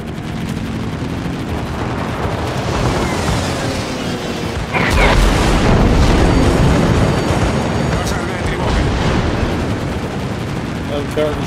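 Anti-aircraft guns aboard a warship in World of Warships, firing in a dense, continuous rattling barrage, loud and close, swelling midway amid explosive rumbles.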